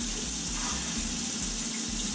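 Strong, continuous gush of water pouring from a household plumbing pipe while winterizing a summer home, loud and close, with a slight pulsing rumble underneath and no voices.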